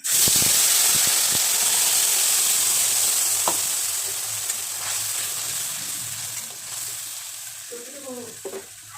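Spices tipped into hot oil in a wok, after cumin and bay leaf, while cooking a chicken curry: a loud, steady sizzle with scattered crackles and stirring scrapes, easing slightly toward the end with no talking.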